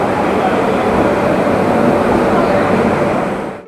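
Shatabdi Express, Howrah to New Jalpaiguri, rumbling at a busy station platform: a loud, steady roar of rail noise and crowd hubbub that fills the whole stretch and fades at the end.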